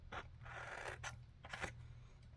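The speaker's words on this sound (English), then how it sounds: "let me grab my scissors real quick" A few quiet snipping and scraping strokes of scissors cutting sticker paper follow one another close up, soft and dry, with no voices present.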